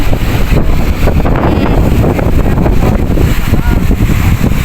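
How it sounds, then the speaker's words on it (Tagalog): Strong wind buffets the microphone at a seaside fishport, with rough sea waves churning beneath as a steady, loud roar that fills the whole stretch without letting up. "Lakas ng alon."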